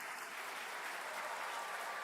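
A seminar audience gives a short burst of applause, dense and even clapping heard from a distance at low volume, with no voices over it.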